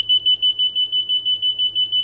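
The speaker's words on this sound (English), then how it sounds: "Inner marker. Yeah, the high frequency beeping." Inner marker beacon in a flight simulator: a rapid, steady series of short high-pitched beeps, about six per second, loud and close with no talk over it.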